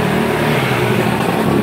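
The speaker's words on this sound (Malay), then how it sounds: "Ini adalah bunyi-bunyi kereta di Pasar Sibu." Cars pass at Pasar Sibu market, a steady, close engine drone filling a short moment with no voices.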